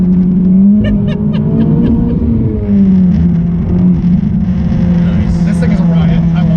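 A 2019 Honda Civic Type R driving on rough Michigan roads, a steady loud engine drone and road rumble from inside the cabin with a shift in pitch partway, while someone talks over it.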